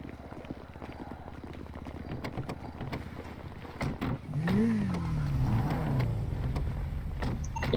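A car starts up and pulls away in a French outdoor setting, engine rising to a steady loud drone after some clattering movement and handling noises.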